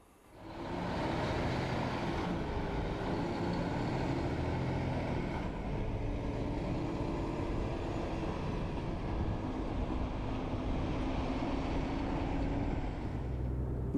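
2021 Renault T Evolution truck heard from the cab while driving: a steady, loud engine drone with road rumble that starts abruptly and holds constant throughout.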